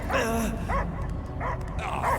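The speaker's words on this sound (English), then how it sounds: "I hear only barking." A dog barks and yips in the Guardians of the Galaxy video game, several short bow-wow calls and whimpers spaced across a couple of seconds over a dense rumbling game backdrop.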